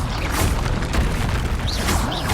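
An Expelliarmus spell cast in the Hogwarts Legacy video game, heard as a loud, booming magical burst with a dense rumbling wash and brief whooshing flickers, steady across the whole moment with no talking.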